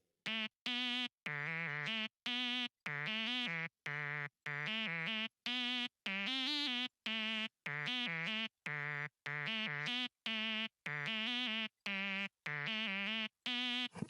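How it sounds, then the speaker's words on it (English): A synth lead melody in a music production track plays a chain of short, buzzy, vibrato-laden notes separated by brief gaps, bright and steady throughout, with no voices over it. "I wanted to add one more little melody, so I added my signature lead on top."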